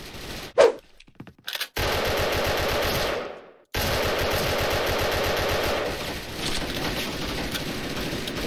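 M16A2 rifle fire in a shooting video game, with a few sharp early shots followed by long sustained bursts of rapid automatic fire, loud and close, broken by a brief silence midway.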